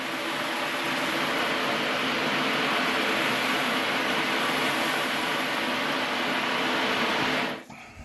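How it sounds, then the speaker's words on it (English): Air pockets in a well water filtration system rush out through an opened drain as a continuous loud hiss and gurgling flow that cuts off abruptly near the end. "Open up the drain and that's, yeah, you can hear the little pockets of air."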